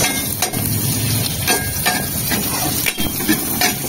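Beef sizzles in melted butter with garlic in a pan, a steady loud frying hiss broken by occasional scraping and utensil knocks.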